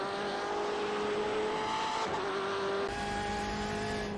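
A BMW M8 GTE race car in iRacing at Lime Rock Park holds a steady high engine note, dips briefly as the driver lifts, then picks up again under throttle, loud and continuous with faint tire scrub.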